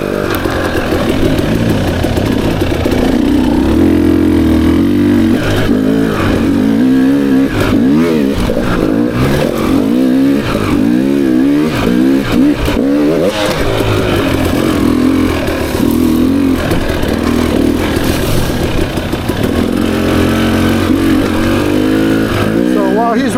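A 2024 Beta 300 RR Race Edition two-stroke dirt bike ridden on single track, its engine loud and close, rising and falling as the throttle is worked, with continuous revving and shifting pitch throughout and no pauses.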